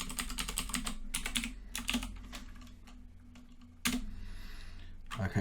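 Someone types a new password on a computer keyboard while setting up a Raspberry Pi, producing bursts of close, crisp key clicks separated by short pauses.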